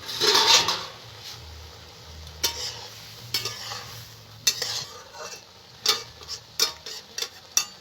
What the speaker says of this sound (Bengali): ঢাকা খুলে মাঝে মাঝে এরকম নেড়ে দিতে হবে